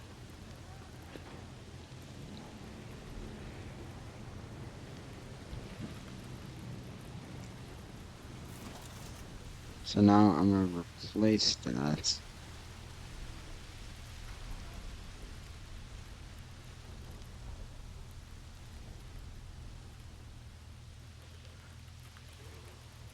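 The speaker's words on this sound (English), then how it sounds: "There's a storm." Steady rain and distant thunder fill a stormy night in the Jurassic World Evolution dinosaur park game, a soft constant hiss with a brief louder rumble midway while someone talks quietly over it.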